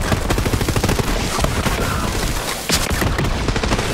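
Upgraded gun in Borderlands 3 firing a rapid, dense stream of sharp shots, a near, loud rattling burst that pauses briefly before resuming.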